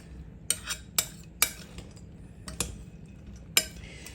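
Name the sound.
stirring chicken salad with a spoon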